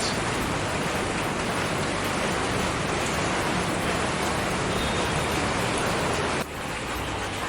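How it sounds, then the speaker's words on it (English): Steady, dense rain in Bangkok hisses loudly and evenly throughout, a constant wash of falling water with no voices. "It's raining in Bangkok and I'm totally wet."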